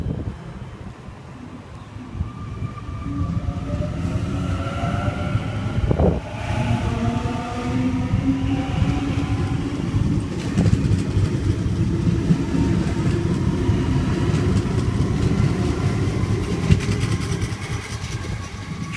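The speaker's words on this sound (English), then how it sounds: "On platform number 4 we have a Penrith service." Sydney Trains Penrith service, set A67, sitting at platform 4 of Doonside station; a steady low engine-like rumble and hum holds throughout with rising and falling tonal whine, wind noise on the microphone, and a brief clunk around the middle.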